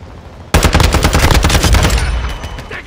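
Dense automatic gunfire from a Call of Duty firefight bursts in suddenly and loudly, sustained rapid shots rattling on for about a second and a half before easing into a rumbling tail.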